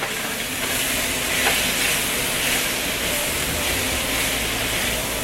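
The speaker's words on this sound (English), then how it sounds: "Give it one more good stir" Fajita mix sizzles hard in a hot pan as it gets a final stir, a dense, continuous, loud hiss with no distinct strokes and no talk.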